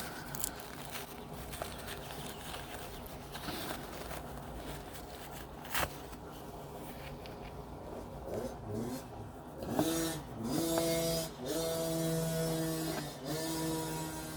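Dirt bikes and 4-wheelers ride in a dirt field next to a house. A steady engine drone builds to several rising revs near the end, heard from a distance with rustling nearby and no talking.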